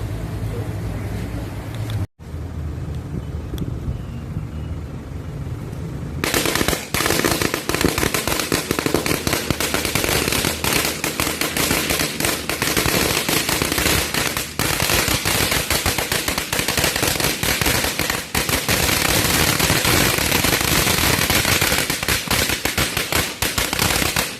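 Firecrackers offered at the Ai Khai shrine burst in a long, dense, loud crackling barrage after a brief quieter lead-in, the rapid pops running continuously like gunfire.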